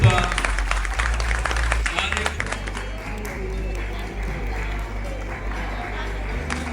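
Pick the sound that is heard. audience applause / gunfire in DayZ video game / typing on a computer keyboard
audience applause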